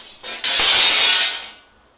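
The blade mount on a STORK RSI screen unit locks into place with a loud, close mechanical clack and a brief metallic rattle lasting about a second.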